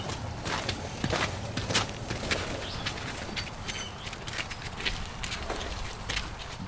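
Mares and foals walk on a farm at sunup, their hooves giving soft, irregular clip-clops at moderate distance, with faint birdsong in the background and no one speaking.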